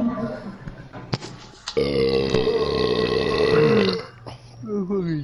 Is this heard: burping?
yes